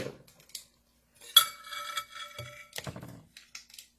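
A spoon clinks and scrapes against a bowl while vanilla is stirred into batter, a few short bright taps and a stretch of brisk mixing with quiet gaps between.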